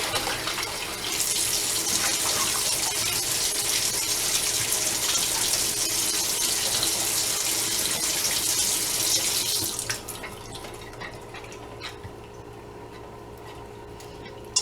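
Water runs from a tap into a sink while corn is washed in water and vinegar, a steady close hiss for about nine seconds before the flow cuts off, leaving a quieter background with no talking.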